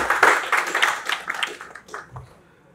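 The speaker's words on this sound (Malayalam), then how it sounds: "ഒരു ഗംഭീര കൈയടി" A short burst of clapping from a crowd at a film press meet, fairly faint and distant, fading out after a couple of seconds.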